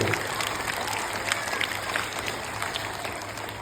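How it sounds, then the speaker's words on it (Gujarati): An audience at a school event gives a sustained burst of loud, dense clapping in honour of girls who decorated an aarti plate for a competition. The applause stays steady and close, with some murmur of the crowd beneath it. "એમના માટે પણ એકવાર જોરદાર તાળી મિત્રો"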